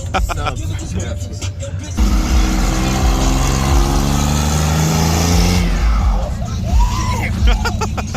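A Ford 6.0 Powerstroke diesel truck with a hood stack revs loudly for several seconds, a deep roaring engine swell rising and falling, with people talking before and after the rev.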